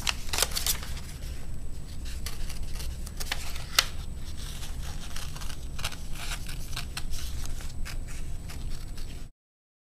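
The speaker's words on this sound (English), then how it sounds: "I'll cut these out quickly here." Crisp snipping and scraping of scissors cutting out a paper pattern for a car, close up, with steady short cuts and no voices.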